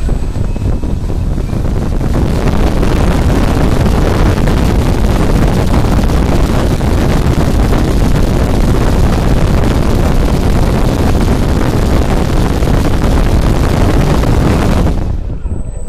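A hobby electric motor runs flat out at full throttle on a 6S-range LiPo battery pack, a loud, steady roaring whir holding for about fifteen seconds before cutting off abruptly at the end.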